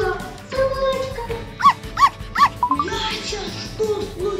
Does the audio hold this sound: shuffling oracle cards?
no